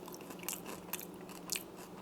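Crunchy bites into a baked pudding with a crisp crust and soft middle, three sharp crackling crunches spaced out over quiet chewing, close up.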